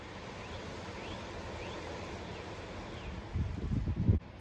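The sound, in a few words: wind outdoors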